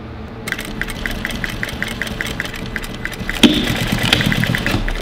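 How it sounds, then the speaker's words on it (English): An electric sewing machine runs steadily, stitching a zipper onto leather with an even 1/8 inch stitch, its motor hum and rapid regular needle clatter continuous and close, getting slightly louder partway through. "And then I'm gonna get this perfect 1/8 inch stitch."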